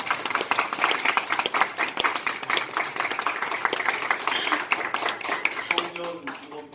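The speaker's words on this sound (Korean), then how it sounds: "청년들이면 박수를 쳐야 됩니다." A crowd of young people applauds at a political party youth policy announcement, steady dense clapping throughout with some voices underneath.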